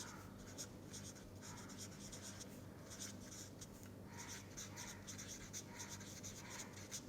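A hand writes eigenvalues, chalk or pen scratching in quick, faint strokes and short bursts with brief pauses, close and alone.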